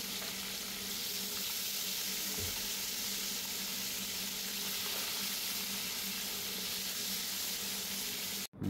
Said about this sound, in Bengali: মাছটা ভালো মতো মিক্স করে গেলে আমি মাছটা এখন ভেজে নেব।